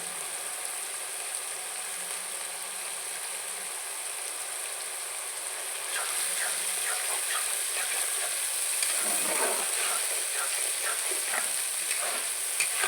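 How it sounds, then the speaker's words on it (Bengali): A spice paste with salt and turmeric fries for mutton, a steady hissing sizzle that grows louder midway, with scraping and stirring strokes against the pan. "একটু লবণ হলুদ দিয়ে মশলাটাকে ভালো করে কষাবো"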